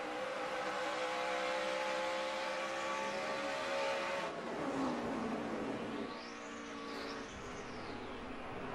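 A NASCAR race car engine roars continuously at high revs during a late-race stock car event, holding a steady drone with a pitch swoop as the car passes, then settling again.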